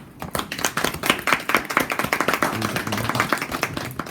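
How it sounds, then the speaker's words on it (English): An audience claps together in a lively round of applause, fairly close and steady for several seconds, with a faint voice briefly underneath. "Give yourselves a big round of applause."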